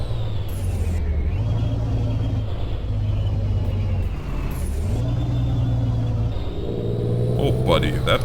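A heavy truck in the video game Euro Truck Simulator 2 drives with a constant loud low engine drone, and the pitch rises and falls with gear shifts and throttle changes.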